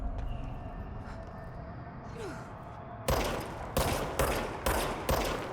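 The player's gun in Control fires a rapid series of about six loud, close shots in quick succession after a quiet stretch of ambient hum.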